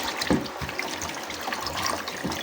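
Water mixed with salt by hand to make brine for sun-dried fish, a soft continuous trickling and sloshing close by with a few brief splashes, and no talking.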